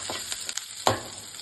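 Onions frying with salt in a pan, a quiet sizzle broken by a few sharp scraping stirs, one louder clack near the middle, then a softer fry fading out.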